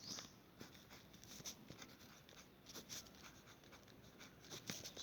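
Marker or chalk scratching across a board during a maths lesson, soft irregular strokes close by with no talk.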